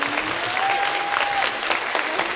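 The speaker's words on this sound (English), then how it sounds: "I'd like to borrow your applause." Audience at an orchestra concert at National Gallery Singapore, with The Purple Symphony, claps in steady, dense applause for the whole stretch, a faint brief tone or voice riding over it.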